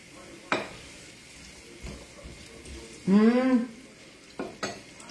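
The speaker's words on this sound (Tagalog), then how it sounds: "Nagigisa ako nagigisa ako na yung ilalagay ko na yung bawang tsaka sibuyas" Garlic and onion being sautéed in a pan, with a faint low sizzle, occasional clinks of utensil against pan, and a short burst of a voice midway.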